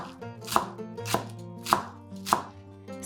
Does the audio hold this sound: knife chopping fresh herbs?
yes